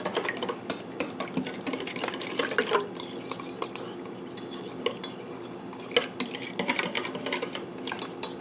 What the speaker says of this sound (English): Blend thoroughly. I'm blending it thoroughly. I'm using a whisk.